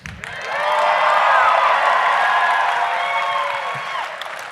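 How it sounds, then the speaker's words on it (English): A convention panel audience bursts into loud applause mixed with cheers and whoops, swelling quickly, holding steady for several seconds, then easing off. "wait for the applause"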